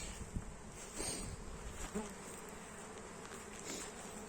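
A dense, continuous drone of many honeybees clustering at a hive entrance in hot weather, buzzing together close by, with individual insects flying past now and then.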